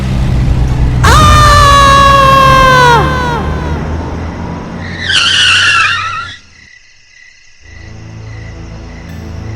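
Loud, high-pitched tire squeal as a car skids to a stop, followed by a second shorter screech, then a quiet idle hum.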